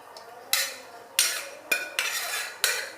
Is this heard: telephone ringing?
no